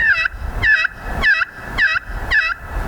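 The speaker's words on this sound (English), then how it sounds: "that's just your basic yelp" A turkey pot call scratches out five evenly spaced yelps, crisp and close, each a short raspy two-note rise and fall.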